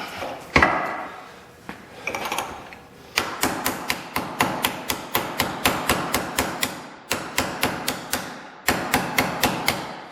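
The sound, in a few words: hammer striking metal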